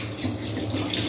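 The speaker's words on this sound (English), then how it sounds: "You gotta rinse it off." Food for a Jamaican-style chicken dish rinsed under a running kitchen tap, a steady close splashing stream of water throughout.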